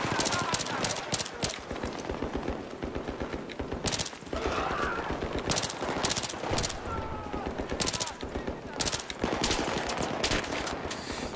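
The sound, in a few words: gunfire in the video game Battlefield 3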